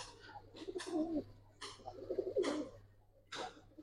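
Silver khaki pigeons coo in a series of soft, throaty rolling calls, several repeated phrases at close range with faint background hum and no talking.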